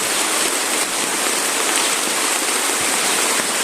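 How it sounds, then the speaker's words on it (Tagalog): Heavy rain pours down steadily and loudly, a dense, continuous hiss that stays even and close throughout with no voices heard. "sobrang lakas ng ulan"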